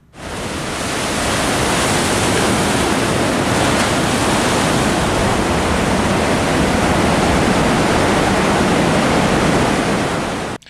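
Big ocean swells surge into a sea cavern, a loud, unbroken roar of churning, turbulent water with wind buffeting the microphone for about ten seconds.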